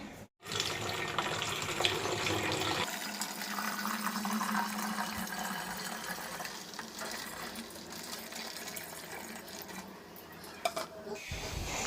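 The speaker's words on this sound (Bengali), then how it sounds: "চল তোমাদের জলটা ভরে রেখে দিই" Water runs steadily from a household tap, filling a container in a home kitchen. The flow is close and continuous, its pitch shifting partway through as the vessel fills, before it stops near the end.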